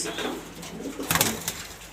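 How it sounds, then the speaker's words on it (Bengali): Pigeons coo close by in a loft of birds kept for sale, with soft intermittent calls and a brief louder flurry near the middle. "এখানে অনেকগুলো কবুতর আছে"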